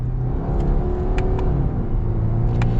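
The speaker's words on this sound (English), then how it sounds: "I'll do a couple of downshifts and get another acceleration here." A 2021 Subaru Impreza Sport Hatchback's flat-four engine accelerating after downshifts, a loud steady droning rumble heard from inside the car with a few faint ticks on top.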